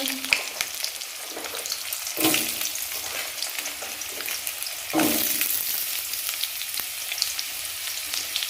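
Potato pieces frying in oil with black cumin and ginger give a loud, continuous sizzle close up, broken by two bursts of stirring and hissing.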